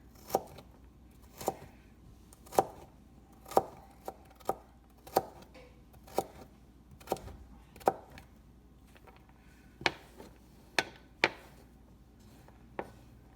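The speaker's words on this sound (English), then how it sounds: "I would call this a brunoise cut of this carrot." A knife chops a carrot into a fine brunoise during a knife-skills lesson: about a dozen crisp, distinct strikes on a cutting board at an uneven pace, close and clear, with no talking.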